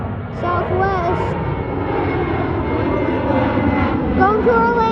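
Southwest airliner passing overhead during plane spotting, a broad steady engine roar that holds at a fairly loud level through the whole stretch, with a voice chattering faintly over it.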